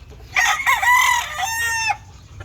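A gamefowl broodstag rooster crows once, loud and close, a long ragged call that rises and then trails off over quiet background.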